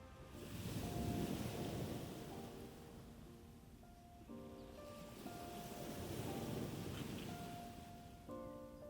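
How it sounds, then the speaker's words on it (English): Ocean waves surge and wash along the long sandy sea beach at Cox's Bazar, Bangladesh, as a continuous rolling roar with wind, along with faint melodic tones in the background. "where land meets endless water, Cox's Bazar, the longest natural sea beach in the world"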